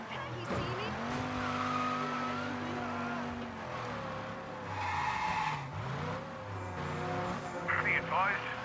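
A speeding car skids and squeals its tires through Chinatown in a video game during a police pursuit, engine roaring loud and close under constant voice chatter.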